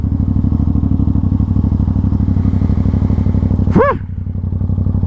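An Aprilia RS660 motorcycle runs steadily at close range with a loud, even engine drone, and near the end a brief higher-pitched rising tone cuts in over it.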